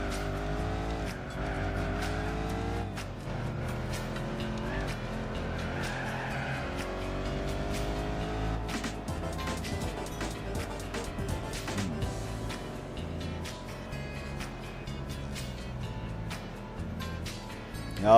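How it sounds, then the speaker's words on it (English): A Saleen race car in the video game Gran Turismo 4 drives with a continuous engine drone that rises and falls through gear shifts, with some tire squeal, loud and steady throughout. "we gotta hope that Granny doesn't suck too bad driving this Saleen."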